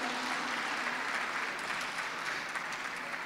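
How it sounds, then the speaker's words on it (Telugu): Convention audience at the North American Telugu Association event in Philadelphia claps together in a dense, steady wash of applause, loud and continuous throughout with no talking over it. "ఒక్కసారి అందరూ కలిసి గట్టిగా క్లాప్స్ కొడితే"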